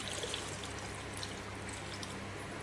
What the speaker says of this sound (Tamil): நான் அரிசி கழுவின தண்ணி தான் ஊற்றுறேன்.